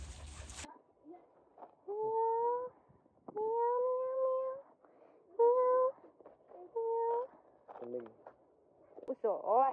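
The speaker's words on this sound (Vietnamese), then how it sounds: "Mèo." Cat meowing several times in drawn-out, rising calls with quiet pauses between, close and fairly clear, ending with a short higher wail.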